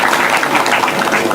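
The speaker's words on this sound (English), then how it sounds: "Please, can you clap for the organizers for this important day?" An audience at a community gathering at a regional referral hospital applauds the organizers, giving dense, sustained clapping from many hands at a steady level.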